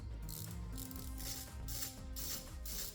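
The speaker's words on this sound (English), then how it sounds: "using your 4mm socket and your ratchet, you're going to loosen these screws right here" A ratchet with a 4mm socket clicks in quick repeated bursts, close and fairly quiet, while screws are loosened on the turbocharger intercooler pressure valve of a 2015-2023 Ford Explorer 2.3L.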